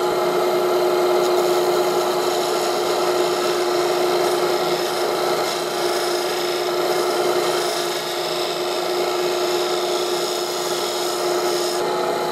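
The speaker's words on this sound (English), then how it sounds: "Just gonna tidy that up with a scraper." A scraper tidying the surface of a handmade wooden percussion instrument for children, a steady close rasping scrape that holds evenly for several seconds with no voices.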